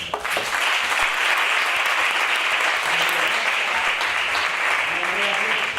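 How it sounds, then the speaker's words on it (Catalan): Loud audience applause welcoming a magician on stage: a full crowd clapping in a dense, steady roar that holds at constant strength, close and unbroken. "donem pas a Rubén Parisi, un fort aplaudiment."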